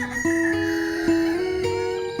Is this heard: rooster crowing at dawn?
yes